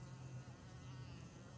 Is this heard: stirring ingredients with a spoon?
no